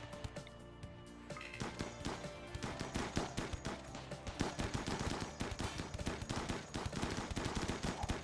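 Rapid video game gunfire in a toxic fallout blizzard, a fast stream of sharp automatic shots starting faint and building into a steady loud rattle over windy background noise.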